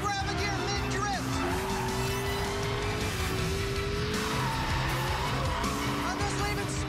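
A McLaren MP4-12C drifts down a runway, its tyres squealing loudly and continuously over a roaring, high-revving engine with quick gear changes, the screech and engine blending into one unbroken wall of sound.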